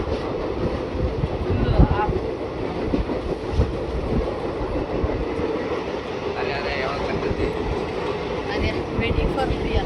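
A moving passenger train rumbles steadily, a loud continuous low roar with faint rhythmic clatter, heard from inside a carriage with voices murmuring underneath.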